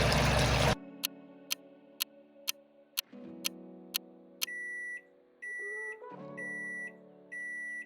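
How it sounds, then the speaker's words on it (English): A kitchen timer beeps in a steady series of short, sharp tones, followed by a few longer repeated electronic beeps over a low background hum. "our 2-minute timer has gone off"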